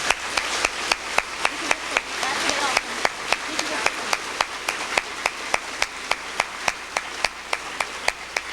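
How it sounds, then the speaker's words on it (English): Audience at an awards banquet clapping steadily, a small crowd's warm applause with regular sharp claps standing out near the mic, continuing under scattered talk. "I would like you to give them a nice warm applause"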